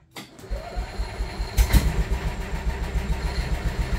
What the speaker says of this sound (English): Fired right up.